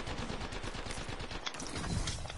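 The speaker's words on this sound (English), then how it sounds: "Opening fire." Fairly quiet bursts of automatic gunfire in a video game, a steady rapid stutter of shots that runs through the whole stretch with no one talking.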